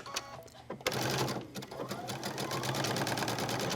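A sewing machine stitches back and forth across a knit cami strap, starting after a few soft clicks and then running in a steady, close, rapid mechanical whir until the end.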